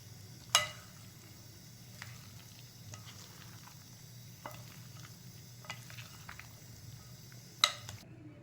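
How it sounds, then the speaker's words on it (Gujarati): Cauliflower pakoda batter being stirred and mixed in a bowl, a quiet, soft wet scraping with a few sharp clinks of utensil against the vessel, two of them louder than the rest. "હવે આપણે એમાં બરાબર બધું મિક્સ કરી લેવાનું."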